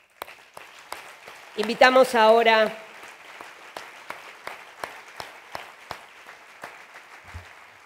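An audience claps at the closing and awards ceremony of the 36th Mar del Plata Film Festival, a steady wash of applause with distinct individual claps, and an announcer speaks briefly near the start.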